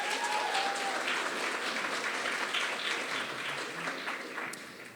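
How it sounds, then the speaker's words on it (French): An audience at an eloquence tournament heat applauds a contestant, sustained dense clapping from a large crowd filling the room, steady throughout and tapering slightly at the end. "qu'on applaudit très très fort"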